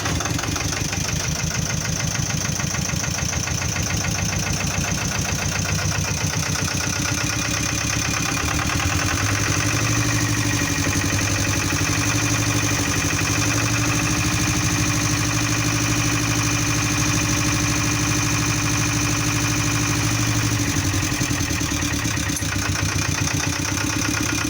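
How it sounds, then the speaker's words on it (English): An inboard boat engine laid up on the hard for winter runs loud and steady at idle while antifreeze is flushed through, a constant droning rumble with no voices. "So now we will start up until we see no more water coming out of exhaust."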